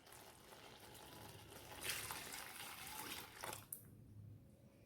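Second coconut milk pours into a pan of mashed banana and jaggery for pazham pradhaman, a soft close liquid splash and trickle swelling for a couple of seconds before fading, quiet overall.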